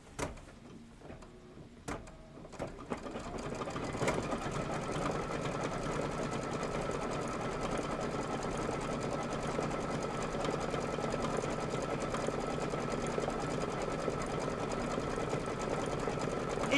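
An embroidery sewing machine runs a satin stitch in a steady, dense whir, starting after a few seconds of handling clicks and continuing alone at an even, fairly loud level to the end.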